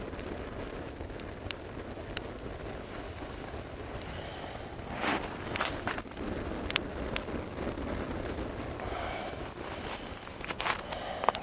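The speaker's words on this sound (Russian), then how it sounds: "как газ горит, вырывается сверху практически под давлением." A Scandinavian candle log fire burning in a forest roars under a strong draft, with a continuous rushing flame noise dotted by sharp crackles and pops, steady and close.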